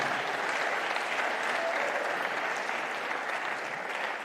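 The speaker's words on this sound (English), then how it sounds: "So big round of applause for all these sponsors that make it possible." An indoor squash event crowd at Frans Otten Stadion in Amsterdam claps steadily for the sponsors, a dense, even wash of applause sustained throughout.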